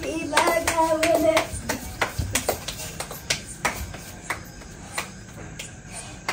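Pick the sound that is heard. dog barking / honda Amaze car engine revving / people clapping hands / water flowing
people clapping hands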